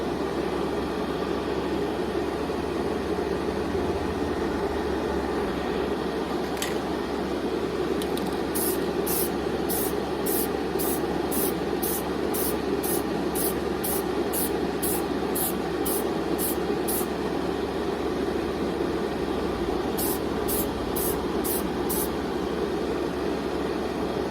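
Duplicolor 1K gloss clear coat sprays steadily from an aerosol can, a continuous close hiss with a brief ticking pattern of short bursts partway through and again near the end, with no talking.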